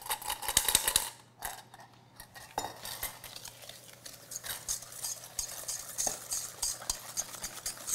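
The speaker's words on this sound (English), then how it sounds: "go ahead and take that whisk and we're gonna whisk this in there" A whisk stirs cake batter in a bowl, giving a steady scraping and clinking rhythm with metal on the bowl, fairly quiet and close, with no talking.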